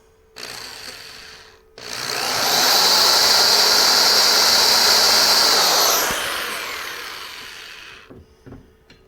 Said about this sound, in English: I'm not gonna drill all the way through.